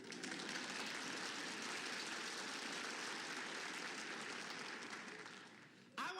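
An audience at a live trading seminar breaks into sustained applause, a broad dense wash of clapping that holds steady for several seconds before stopping abruptly.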